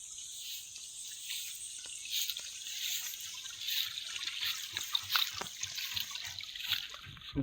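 Water on a plot of land in San Quintin, Pangasinan, Philippines trickles and gurgles in a close, continuous stream with uneven splashy bursts, and no voices are heard.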